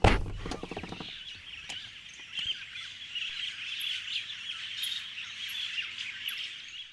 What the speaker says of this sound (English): the sound of the birds calling, it's almost deafening